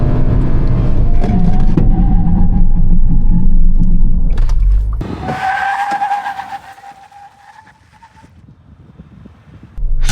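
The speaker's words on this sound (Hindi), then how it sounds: "ब्रेक्स जैसी मैंने प्रेस की तो काफ़ी ज़्यादा आवाज़ की" A Nissan Gravite decelerates hard from a loud engine drone, then a squealing, whining brake noise rises and lingers before fading into quieter rumble.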